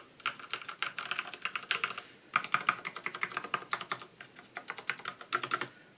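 Close typing on a Durgod Taurus K320 mechanical keyboard with heavy-spring Cherry MX Black switches: quick bursts of crisp, clacky keystrokes in uneven rhythm, with short pauses between runs, quiet and alone.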